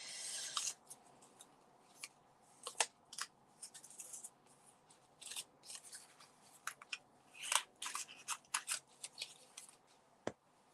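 Scissors snip through white card for a small cactus-in-a-tin craft, producing quiet, close, irregular cuts with crisp rustling between them.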